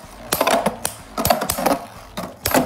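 Beyblade spinning tops colliding in a battle stadium, attack type against defense type, giving several sharp, close clacking hits in quick bursts, with no talk over them.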